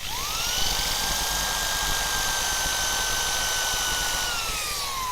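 Handheld power drill running steadily in reverse, a continuous high motor whine that ramps up quickly at the start and holds constant and fairly close throughout.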